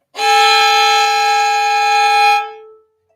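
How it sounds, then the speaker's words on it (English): A fiddle double stop with two strings bowed at once, a loud steady bright sustained tone held for about two seconds before fading out, with no talking. "So that is a double stop."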